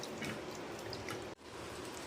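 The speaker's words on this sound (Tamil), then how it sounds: "கம்மங்கூழ் இப்போ வந்து ஊற்றுறோம் டம்ளரில்" Pearl millet porridge is poured into a tumbler as a steady, close, thick liquid stream that breaks off briefly once and then resumes.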